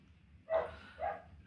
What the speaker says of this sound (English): I'm sorry if you can hear that dog.